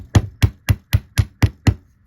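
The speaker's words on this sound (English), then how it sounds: "I went ahead and hammered it" A hammer strikes thin wire being shaped into a doll necklace, seven sharp, evenly spaced taps in quick succession, close and clear with no talk.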